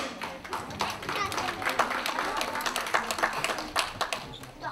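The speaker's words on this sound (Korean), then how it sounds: "힘찬 박수 부탁드립니다." An audience claps for an elementary school ocarina team at a performance contest, irregular and somewhat thin clapping with individual claps audible, moderately close, while a voice talks over part of it.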